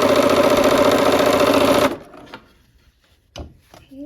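A sewing machine runs steadily for about two seconds, joining quilt sashing strips to blocks with a close, even mechanical hum. It then stops, leaving quiet fabric handling and a few light knocks.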